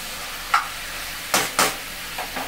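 Mutton curry for biryani stirred in a pan with a spoon: a few short scraping, sizzling strokes spaced apart, moderately close, with no talking.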